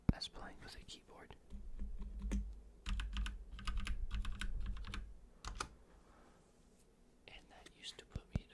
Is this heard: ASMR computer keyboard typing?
yes